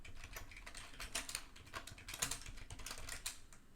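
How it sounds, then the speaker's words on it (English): Fast, steady keyboard typing close to the microphone, with dense clicking keystrokes running throughout and a few louder key hits standing out. "All I hear is Adam and typing."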